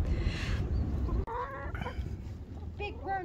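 Silkie chickens cluck softly after being moved outside to their new coop, with a few close, short calls between quiet talking nearby.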